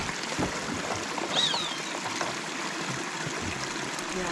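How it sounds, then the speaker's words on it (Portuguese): Spring water trickles from a natural source in rural Brazil, a steady, even hiss and burble of flowing water filling the whole stretch, fairly close, with no one speaking. "aqui é a nascente, é onde a gente pega a água"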